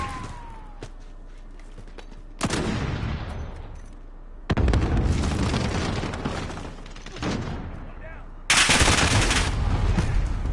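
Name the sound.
flashbang grenade and gunfire in Call of Duty: Modern Warfare video game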